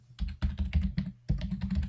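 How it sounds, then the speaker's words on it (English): Rapid typing on a computer keyboard during the Space Quest III computer game, with close, crisp key clicks in two quick bursts separated by a short pause. "Let's try typing it correctly first."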